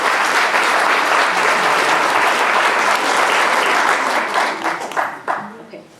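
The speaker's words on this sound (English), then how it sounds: "Can you give them a good round of applause?" An audience at a national spelling bee gives the learners a warm round of applause, dense and steady before thinning out into scattered claps at the end.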